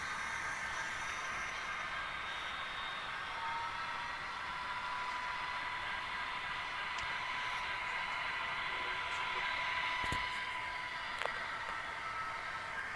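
A model intermodal stack train pulled by three SD70M locomotives on a layout: a continuous rumbling sound with a steady high whine, running along at an even level for the whole stretch, with a couple of sharp clicks near the end.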